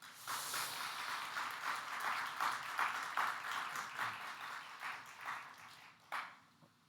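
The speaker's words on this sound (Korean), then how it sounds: "먼저 박수 한번 하겠습니다" An audience at a Christian university welcomes its visiting president with applause, a dense round of clapping that holds steady, then thins out and fades to near silence at the end.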